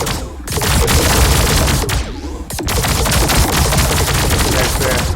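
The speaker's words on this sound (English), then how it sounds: "There's the Nodachai beams opening up." Nodachai beam weapons firing during a space battle in Star Drive 2, a dense, loud and continuous barrage of crackling, rattling weapon blasts with a brief dip partway through, no voices heard.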